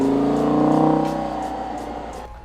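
A minivan's engine idling and revving before a track day, a loud, close, throbbing drone that swells and then slowly dies down, with light clicks over it.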